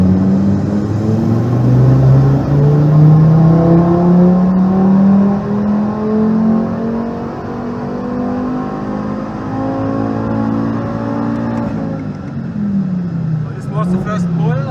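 Audi TT RS Mk1 with a CEPA engine revs loudly on a dyno during a power pull, its pitch climbing steadily for about twelve seconds before dropping back, with a voice talking over the drone.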